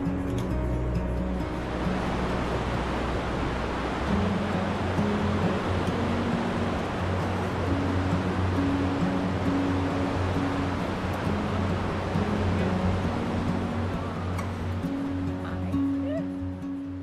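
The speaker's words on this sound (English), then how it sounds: "you can appreciate the power and magnificence of this wild section of the Kootenai" Broad, steady rush of the wild Kootenai River at river level in Montana, a continuous roar of fast water heard close and loud throughout, with low hum and faint murmuring voices beneath.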